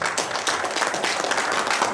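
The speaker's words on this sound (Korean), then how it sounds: "큰 박수로 시작하겠습니다" Applause fills the room as a humanities forum lecture opens, a dense, steady patter of many hands clapping at moderate volume.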